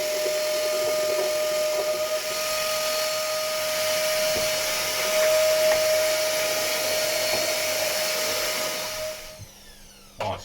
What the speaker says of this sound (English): Let's just hoover this out quickly.